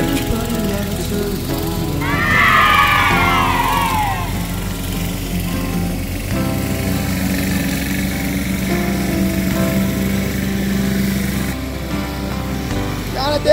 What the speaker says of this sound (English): Everybody loves a lawnmower.